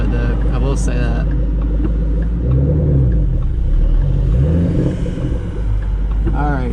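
A Shelby GT500 with a Corsa Extreme exhaust idling: a deep, steady low rumble with slight burbling swells, close by, under ongoing conversation.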